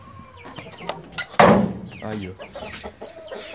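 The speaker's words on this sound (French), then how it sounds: "On va passer à ces poules là qui sont pas sortis parce qu'il pleut" Hens kept inside their coop on a rainy day cluck and chatter close by, with a sudden loud squawking burst midway and a brief spoken exclamation.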